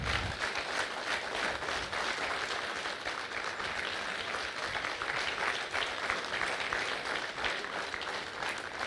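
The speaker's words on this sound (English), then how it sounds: "I request everybody from Jacquard to give a big round of applause to Chetan." An audience at an event welcomes author Chetan Bhagat with sustained applause, a dense, steady wash of clapping at close range that holds for several seconds without talk.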